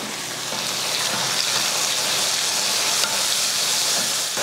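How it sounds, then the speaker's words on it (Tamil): Onion, garlic and tomatoes sautéing in a pan, a continuous close, even hiss of frying like steady rain, with no talk. "வெங்காயம் வெள்ளைப்பூண்டு ரெண்டும் நல்லா வதங்கிருச்சு பாருங்க. வதங்கினதுக்கப்புறமா ரெண்டு இதில் ரெண்டு தக்காளியை சேர்த்துக்கலாம்."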